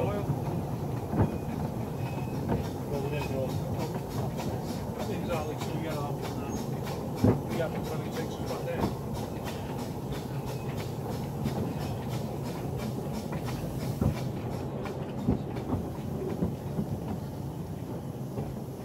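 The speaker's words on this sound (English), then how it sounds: "that's a pop special train ride" Rail cars clatter steadily along the track during a train ride, with rhythmic wheel clicks at the rail joints, occasional louder knocks and a constant rumbling roar, and faint voices in the background.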